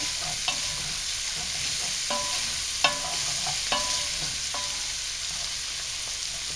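Chicken for Sicilian-style cacciatore sizzles steadily in a pot over lowered heat. A utensil knocks and scrapes against the pot a few times, and there is no talking.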